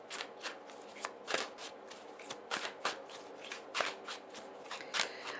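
Tarot cards being shuffled and drawn by hand, giving a series of crisp, close papery riffles and slaps at an irregular rhythm, alone without speech.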